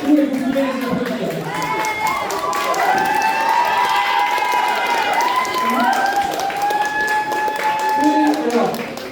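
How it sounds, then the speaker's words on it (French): Spectators applauding cosplay contestants at an anime festival's costume contest and awards, scattered clapping and crowd noise running under overlapping voices and cheering throughout. "vous pouvez les applaudir"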